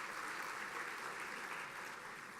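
Sustained applause from a gala audience at an Interfaith Ministries event in Houston, a dense, even wash of many hands clapping that stays steady and moderately loud for the whole stretch, with no voices rising above it.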